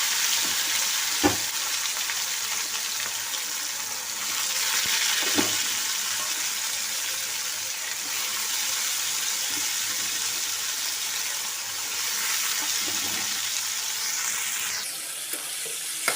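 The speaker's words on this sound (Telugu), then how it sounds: "వీటిని ఇలా బాగా రోస్ట్ చేయాలి" Bitter gourd pieces frying and roasting in hot oil in a pan with green chillies, a steady close sizzle throughout with occasional stirring clatters, no talking.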